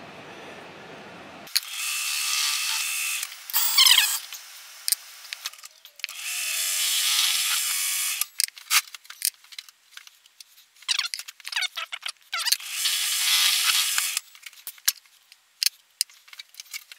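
A lathe with a boring bar takes a light skim cut while building a Hemingway kit spherical ball turner, bursts of high metallic cutting hiss separated by quiet gaps and scattered clicks and ticks.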